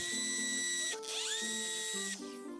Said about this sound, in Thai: หลังจากนั้นก็ใช้สว่านเจาะรูได้เลย